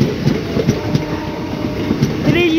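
A WAP-7 electric locomotive hauls a Pilibhit–Bareilly City passenger train past at close range, with loud rhythmic wheel clatter over rail joints on a steady rolling rumble.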